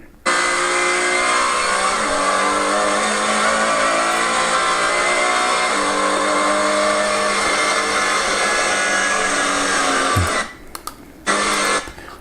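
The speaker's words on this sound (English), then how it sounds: "anytime you get to the exit of a corner and you hear a throttle lift" A race car engine screams at high revs close by, shifting gears, then abruptly drops off as the throttle lifts at a corner exit before picking up again.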